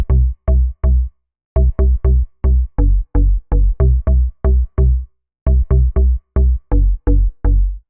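An Afro House synth bass preset with a mallet layer plays a loud, punchy pattern of short, deep plucked notes in uneven rhythmic groups, with clean gaps of silence between the phrases.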